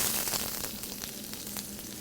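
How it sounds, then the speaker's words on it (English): Chopped onions sautéing in a hot oiled pan: a loud, continuous sizzle with a steady crackle, close and alone, with no voices over it. "Get them hot real fast because the onions are gonna cool the pan down a little bit. Right now we call this sauteing."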